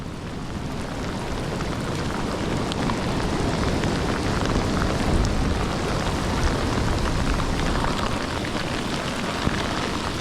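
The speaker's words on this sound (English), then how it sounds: "This is not light rain, this is torrential." Heavy torrential rain pours steadily during a lightning storm, a dense, constant roar of drops with no pauses and no voices.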